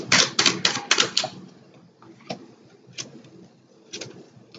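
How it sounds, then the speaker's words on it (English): A rapid flurry of crisp paper flicks and riffles as a deck of oracle cards is shuffled, then a few scattered soft taps and snaps, close by with no talking. "I'm going to shuffle again."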